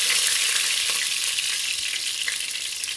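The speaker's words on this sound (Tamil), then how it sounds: "பாருங்கள், கடுகு நல்லா பொரிய ஆரம்பிச்சிடுச்சு" Mustard seeds and curry leaves splutter in hot oil in a pan, a loud, close, continuous crackling sizzle with scattered sharper pops and no talking.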